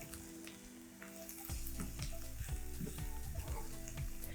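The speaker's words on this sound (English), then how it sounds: "And some chilies for a little heat. Saute this around." Ginger and chilies sauté in a pan for curried corned mutton with a loud, continuous frying sizzle that grows fuller partway through, punctuated by repeated stirring scrapes and light knocks.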